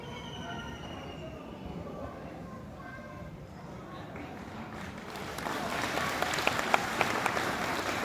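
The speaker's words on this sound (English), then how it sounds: "Big clap, big clap." Audience applause at a school investiture ceremony swells from a murmur of voices into steady, dense clapping from a large crowd, growing louder through the second half.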